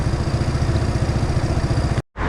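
A Seha 250 motorcycle engine idles while its radiator is being bled and topped up with coolant. It makes a steady, close, rhythmic low chugging that stops abruptly just before the end.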